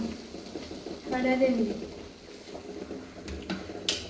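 Kerala-style sweet banana bondas fry in oil with a soft, steady sizzle, while a voice briefly talks over the bubbling and a faint clink sounds near the end.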